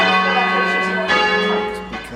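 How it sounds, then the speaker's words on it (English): Church bells in Wolverhampton, rung by bellringers, ring loudly and continuously, layered tones overlapping with new strikes about every second; no voices. "I ring bells"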